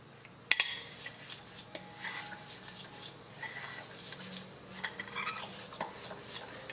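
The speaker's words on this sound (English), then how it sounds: "So just mix that up, mix that up." A coffee and sugar body scrub mixture is stirred with a spoon in a container, giving quiet gritty scraping and light clinks against the sides over about seven seconds, with no talking.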